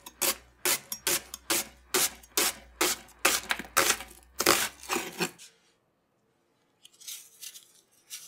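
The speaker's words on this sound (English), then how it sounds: "Now peel and slice the onions." Onions being peeled and sliced on a cutting board: a steady run of about a dozen loud, close knife chops in even rhythm, stopping abruptly, then a few faint scraping rustles after a short silence.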